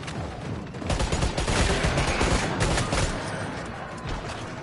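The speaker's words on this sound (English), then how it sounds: "I have to kill them with strictly gunfire." Dense, sustained gunfire from the video game Killing Floor 3, a loud continuous fusillade of rapid shots and bursts filling the whole stretch with no talk over it.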